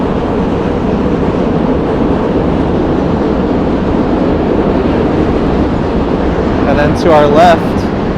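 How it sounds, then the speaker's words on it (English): Subway trains rumble across the Manhattan Bridge in New York, a loud continuous metallic roar and rattle filling the scene, with a brief squeal of wheels near the end and someone speaking over it. "Got the trains running across the Manhattan Bridge."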